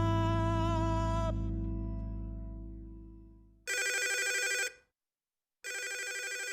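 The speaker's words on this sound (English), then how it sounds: "What's this? A phone call, and it would appear it's important." A telephone ringing in a video game, a long tonal ring fading out, then two loud electronic trill bursts separated by a brief silence, close and alone.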